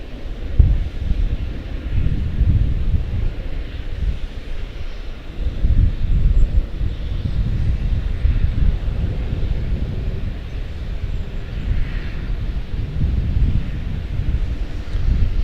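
A jet arriving at Charlotte Douglas airport rumbles low and distant on the far side of the field, a broad, wind-buffeted roar swelling and easing over several seconds.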